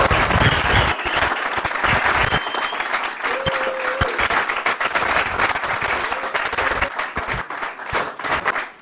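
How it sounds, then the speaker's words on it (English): Audience at an event bursts into sustained applause, dense loud clapping filling nearly nine seconds with a few brief louder accents and a faint whistle or cheer, tapering slightly toward the end. "let's give her a big round of applause."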